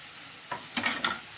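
Chopped capsicum and onion frying in a pan for chilli paneer, giving a soft steady sizzle with a few louder scraping stirs toward the end.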